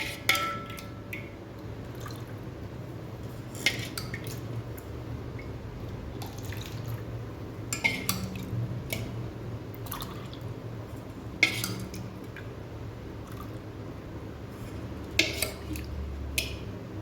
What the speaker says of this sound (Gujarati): હવે આપણે આ જ્યુસને આ મોલ્ડમાં ભરી લઈશું.